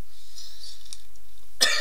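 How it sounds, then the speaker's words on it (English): A single chesty cough bursts out near the end, loud and close, after a quiet stretch with only faint room hiss. "Excuse me, bit of a chesty cough."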